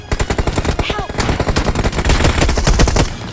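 Rapid AWM sniper rifle shots and gunfire bursts in a mobile battle royale shooter, loud and dense, cracking in quick repeated volleys over a busy game soundscape with brief voice-like sounds.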